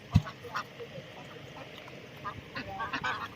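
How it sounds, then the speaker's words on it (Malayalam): Kuttanadan ducks by a roadside in Alappuzha give a few scattered quacks over a noisy outdoor background. One sharp call comes near the start, and a cluster of calls follows toward the end. "ഈ തലയിൽ ഡാർക്ക് ഗ്രീൻ ആയിട്ടുള്ള അതാണ് പൂവൻ താറാവ്"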